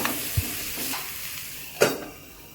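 Onions are frying in a pan with crushed ginger and garlic and being stirred. A soft, steady sizzle runs underneath, broken by a couple of scraping strokes of the spoon, one low knock and one sharper scrape near the end.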